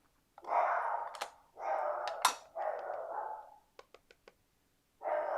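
Dogs in a home craft room give a series of loud barks in short bursts, with a few quick yips near the end and then another bark.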